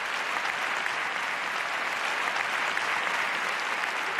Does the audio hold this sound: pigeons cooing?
no